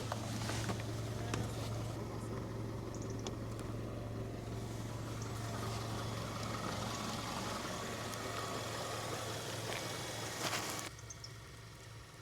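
Car engine idling steadily in a Swedish forest while deer are nearby, a low constant hum under faint outdoor ambience that drops slightly near the end, no voices.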